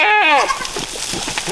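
Bottle-fed baby goats let out one loud, wavering bleat up close, followed by softer rustling and small movements.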